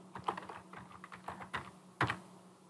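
Typing on a computer keyboard while entering a field name in Tableau, a quick close run of light key clicks ending with one firmer tap, with no talk.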